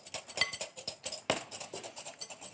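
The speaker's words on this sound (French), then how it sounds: "il faut surtout pas s'arrêter de fouetter" Steady whisking of egg yolks into a sabayon in a bowl over a bain-marie, a rapid metallic scraping and clinking rhythm running close and continuous without pause.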